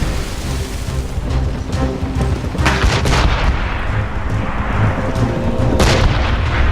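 Ship cannons firing in a naval battle in Assassin's Creed Rogue, a string of heavy booms and cracking blasts rolling over a dense, loud game soundscape with no speech.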